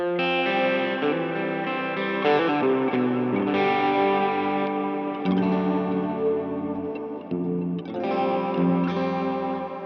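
Electric guitar runs through an HX Stomp with reverb on a crunchy tone, strummed chords and melodic notes washing together for about ten seconds at a steady, loud level, without any voices.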